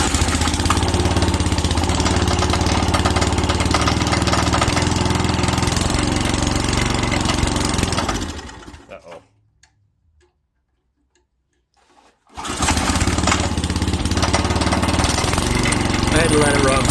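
The small engine of a front-tine tiller runs on choke in a loud, rapid, chugging clatter, cuts out into silence for a few seconds, then fires up again and keeps running just as loud.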